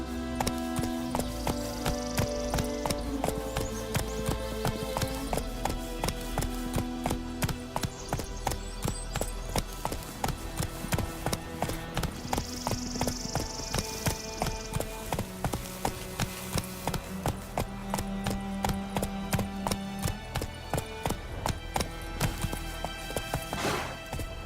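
Roach, Geralt's horse in The Witcher 3, gallops with steady, rapid hoofbeats that run through the whole stretch, with game music layered over them.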